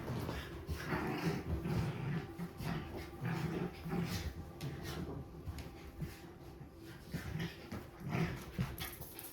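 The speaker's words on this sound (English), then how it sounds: "My dogs have been so active with the energy lately." Several excited household dogs make restless noises, mixing scattered barks, whimpers and growls over steady background noise, moderately close and continuous.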